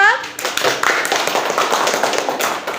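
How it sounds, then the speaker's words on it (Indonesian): A classroom group of children claps for a presenting group, a busy burst of sharp hand claps mixed with kids' voices and chatter close by. "Tepuk tangan untuk kelompok 4."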